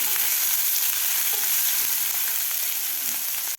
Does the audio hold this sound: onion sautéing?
yes